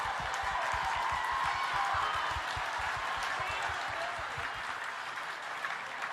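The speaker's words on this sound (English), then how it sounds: "can we get a round of applause for all of the producers in the room?" Steady applause from an audience at a radio awards ceremony, a close crowd of clapping hands that holds for several seconds without letting up.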